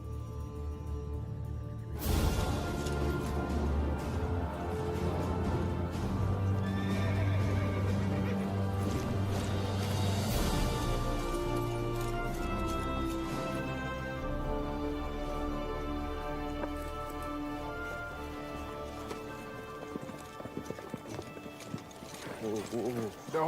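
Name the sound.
horse neighing and hooves clip-clopping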